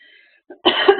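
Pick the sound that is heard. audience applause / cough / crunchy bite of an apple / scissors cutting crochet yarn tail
cough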